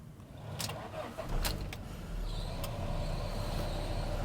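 A high-mileage Fiat Multipla engine starting: a few clicks and key rattles, then the engine catches and settles into a steady low idle from inside the car.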